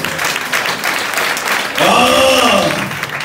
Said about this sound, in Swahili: Kama unaamini, patia Bwana makofi mazuri